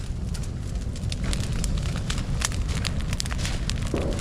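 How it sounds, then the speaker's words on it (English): A roaring wood campfire at a bushcraft shelter crackles and pops steadily and close up, with dense irregular snaps over a constant rushing flame roar throughout. "all the crackling and popping that you hear, it is that wood that is drying out"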